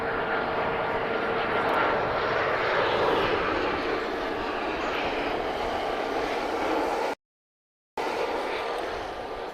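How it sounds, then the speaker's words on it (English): A Ryanair airliner arrives at Lisbon Airport with a broad, steady jet roar from a distance that holds at a constant level throughout, broken by a brief dropout near the end. "Spirited arrival from Ryanair there."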